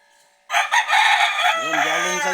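An imported fighting cock, hatched from an egg brought over from the US, crows loudly and close up in one drawn-out call that breaks in suddenly after a brief quiet moment and holds to the end.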